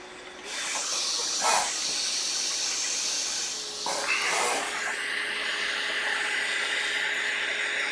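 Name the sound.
hot air nozzle blowing to melt solder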